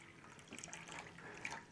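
Water at pH 9.5 poured straight into a drink, making a faint, steady trickle with small splashes and no talking.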